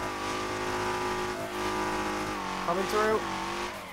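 A drifting car in Torque Drift 2 holds a steady, high engine drone with layered harmonics, and a brief tire squeal rises near the end as a voice speaks over it.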